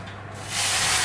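A brief hiss that swells into a loud, sizzling spray halfway through as boiling water is poured into a hot oven tray for baking baguettes.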